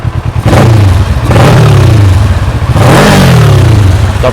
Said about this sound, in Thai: ขออนุญาตเบิ้ลเครื่องนิดนึงครับ